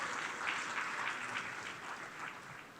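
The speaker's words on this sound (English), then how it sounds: "Let's give them a round of applause." A university town hall audience applauds alumni and friends, a faint, distant wash of many hands clapping continuously.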